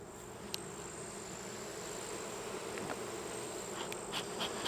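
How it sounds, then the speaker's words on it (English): Bees in an opened hive during an inspection, a dense, steady swarm drone heard close and continuous at low level, with a few faint knocks and clicks and no talk. "got a bunch of bees under there."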